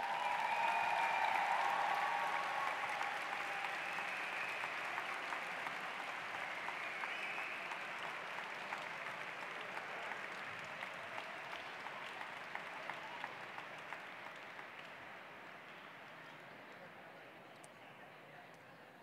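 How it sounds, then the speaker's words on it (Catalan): Sustained applause from an audience at a university graduation ceremony in an auditorium, steady dense clapping that begins loud and slowly fades over about twenty seconds, with no talk over it. "Un fort aplaudiment per tots ells."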